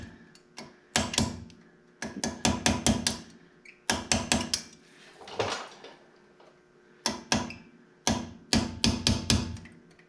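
A hammer taps out a brake caliper pin on a 2017 Acura NSX, with close, sharp metallic strikes in quick bursts of several blows separated by short pauses.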